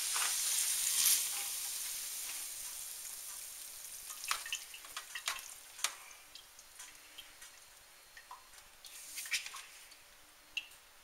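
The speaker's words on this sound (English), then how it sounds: "you're going to go ahead and drain all the grease and stuff out of this" Hot grease drained from browned hamburger in a pan for chili gives a soft continuous sizzle with scattered drips, ticks and small splatters, moderately quiet and with no voices.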